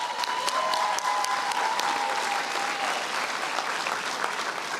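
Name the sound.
graduation audience applause for honor society candidates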